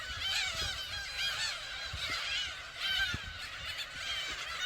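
A dense chorus of black-tailed gulls calling over one another, harsh mewing cries overlapping continuously, a large breeding colony in Sinan County, South Korea, heard at moderate distance.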